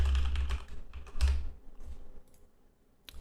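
Keys tapped on a computer keyboard while a password is entered, a quick burst of close, soft clicks followed by a pause and a final pair of taps.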